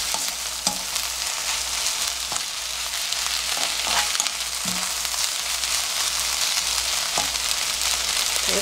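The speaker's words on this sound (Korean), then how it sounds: "양파가 살짝 누르면서 양파가 이렇게 익어가거든요" Sliced onions frying in a pan over medium heat, a constant bright sizzle with faint scraping stir sounds at irregular intervals, close and steady, with no talk.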